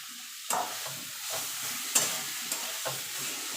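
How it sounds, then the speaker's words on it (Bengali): A spoon stirs cauliflower mash in a pan over heat, giving a faint steady sizzle broken by several soft scraping knocks against the pan at irregular intervals; no voices. "এবার ভালো করে মিশিয়ে নেব।"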